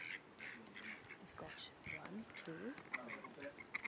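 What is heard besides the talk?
ducks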